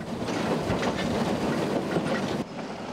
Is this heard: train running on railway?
yes